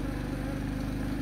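A petrol generator runs steadily to power a bee vacuum for a beehive relocation, giving a continuous, even engine drone with a low harmonic hum and no talk over it.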